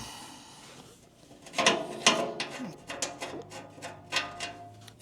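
A spanner works bolts on the head of a 1949 Marshall engine, giving a run of close, sharp metallic clicks and ratcheting taps, irregular and moderately loud against a quiet workshop background.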